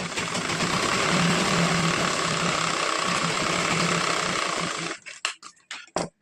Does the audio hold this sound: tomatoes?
no